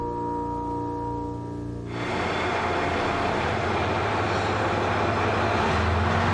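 A Sanriku Railway Kita-Rias Line train pulls away from Rikuchu-Noda Station, a steady rumble of wheels and engine rising suddenly after a tonal opening and continuing loud and close.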